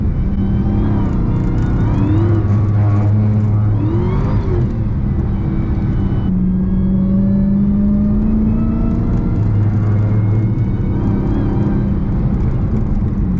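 A Hellcat-swapped Chrysler 300 roars steadily while sliding, its engine droning loud and constant with a few rising whines as the bald tires spin up.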